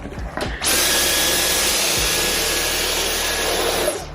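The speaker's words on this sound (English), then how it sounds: "It's the most efficient hoover I've ever used, like hands down." A household hoover switches on with a thud and runs at a steady, loud broadband roar for about three seconds, then cuts off near the end, with no talking.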